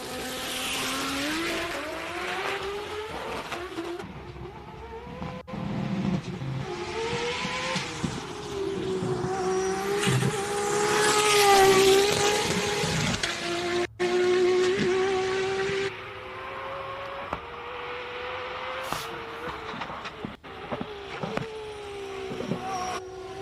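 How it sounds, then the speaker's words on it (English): A very loud race car screams up the Simola hillclimb in South Africa, its engine note rising and falling through gear changes and corners, sustained and close for the whole run with no talk over it. "It is the loudest car ever that you could ever hear."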